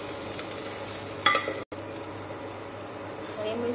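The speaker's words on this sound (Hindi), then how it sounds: "प्याज को हम भून ले लेते हैं थोड़ा।" Onions fry in a pan for a savoury broken-wheat pulao, a steady sizzle with stirring scrapes, a brief clatter and a momentary dropout partway through.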